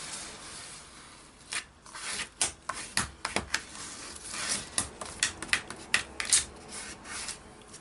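A bone folder rubs and creases card paper in repeated short scraping strokes, close and fairly clear, building into a quick series of rasping passes with no talking.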